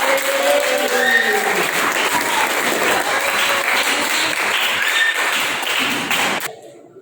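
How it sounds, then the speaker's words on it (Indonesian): A classroom full of people claps steadily for several seconds, loud and dense, then the applause cuts off abruptly. "baik, tepuk tangan buat Sawa"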